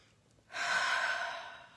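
A single slow, audible breath drawn during a guided tapping exercise, soft and close, rising after a brief quiet pause and easing off gradually with no talking.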